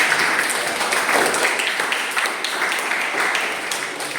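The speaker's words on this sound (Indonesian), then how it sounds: "Berikan aplaus kepada kelompok." Applause from a classroom audience for a student discussion group, a steady dense patter of many hands clapping throughout, fairly close and continuous with no pauses.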